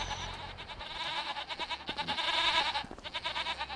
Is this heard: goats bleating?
yes